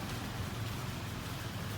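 Steady, soft rainfall hisses continuously at Cha-Am Beach, Thailand, a dense even wash of drops without pauses.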